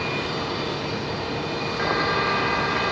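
Qantas jet airliner departing Brisbane airport at twilight, its engines a steady loud roar that swells slightly partway through, with no talk over it.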